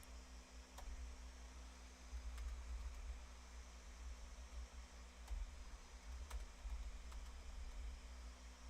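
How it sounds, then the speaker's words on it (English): Faint, scattered clicks of typing on a computer keyboard tap irregularly over a low hum of a fan or air conditioning. "I'm typing. Give me a second"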